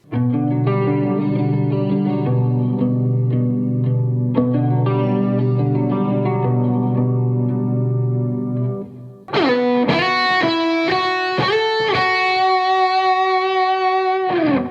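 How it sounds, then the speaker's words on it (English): The eerie X-Files TV theme: sustained, wavering synth tones, then a shift to a brighter, echoing melody of distinct whistled-like notes; no talking. "this theme has been designed specifically to be spooky, to sound haunting and mysterious and threatening and dangerous"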